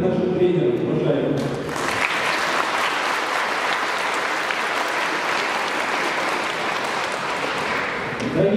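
After a speaker's opening words, an audience at a sports and fitness centre's anniversary ceremony in Klintsy breaks into loud, dense, sustained applause for the coaches, holding steady until it fades near the end.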